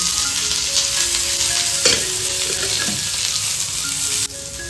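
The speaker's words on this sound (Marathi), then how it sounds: "आता कांदा भाजताना थोडा तेल टाका, म्हणजे कसा कांदा पटकन भाजतो." Onion frying in oil in a pan during home cooking of an egg curry, a steady loud sizzle with occasional stirring scrapes, no voices.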